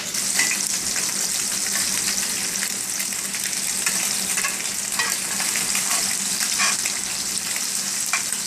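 Vegetables and sausage frying in a skillet, a loud, steady sizzle throughout with intermittent scraping and clinks as the pieces are stirred and turned, heard up close.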